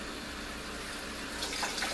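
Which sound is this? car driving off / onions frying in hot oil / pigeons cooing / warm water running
warm water running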